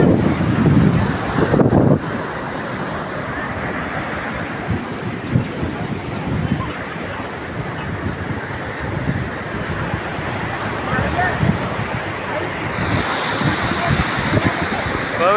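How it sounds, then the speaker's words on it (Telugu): Surf washing ashore at Kovalam Beach in Kerala, with wind buffeting the microphone over a continuous rushing roar of waves, and faint voices in the background. "కోవెలం బీచ్, కేరళ."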